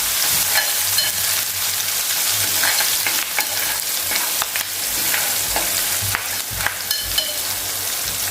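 Crushed garlic, red chili pieces and curry leaves sizzle and crackle in hot oil in a pan for a bottle gourd bhaji, with steady scraping stirs and a few sharp spatter pops throughout.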